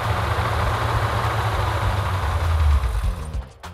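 A Mopar V8 in a Dodge Charger idles while warming up, a loud, close, rumbling low drone that holds steady, then dips and fades near the end with no voices.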